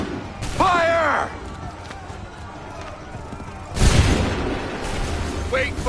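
A volley of musket gunfire in the Assassin's Creed III video game: a shouted command rings out first, then a loud, sharp, roaring blast of massed shots comes near the four-second mark and trails off into rumbling noise.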